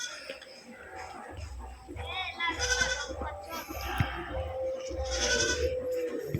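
Sheep bleat twice around a village house, wavering cries at moderate distance under ongoing conversation and a low background hum.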